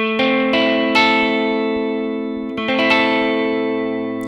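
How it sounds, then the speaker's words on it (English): A Schecter C1 Silver Mountain electric guitar plays through its neck pickup alone, with several strummed chords and picked notes ringing close and full, carrying chorus-like effects and reverb, and no talking. "Here's just the neck pickup."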